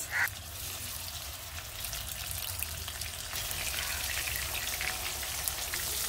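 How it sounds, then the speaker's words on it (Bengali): Fish fries in hot mustard oil in a non-stick pan, giving a steady crackling hiss with a brief pop near the start, constant and close with no voices. "তো তেলটা গরম হয়ে গেছে, আমি দিয়ে দিচ্ছি মাছ।"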